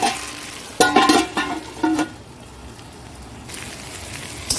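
Okra (bhindi) frying in a pan: a few loud bursts of scraping and stirring close by, then a quieter, steady sizzle that lingers until a final scrape.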